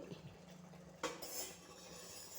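A spoon stirs a pot of boiling jackfruit payasam with sago, giving a brief close metallic scrape and clink against the vessel amid a soft bubbling background.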